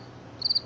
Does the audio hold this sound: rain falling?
no